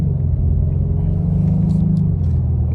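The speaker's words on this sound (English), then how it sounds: "once the motor quiets down" A car's engine rumbles steadily while driving through an industrial area on Nokian Surpass AS01 high-performance all-season tires, a loud close low drone with a slight swell midway.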